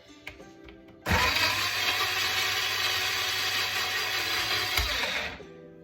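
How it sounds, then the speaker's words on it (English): A blender whirs loudly and steadily for several seconds after a few quiet clicks, then stops abruptly, making garlic paste. "I'm just going to connect the blender to electricity"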